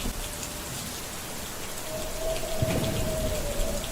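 Torrential rain falls steadily in Jiangxi, China, a close, even hiss of drops hitting surfaces that swells slightly toward the end.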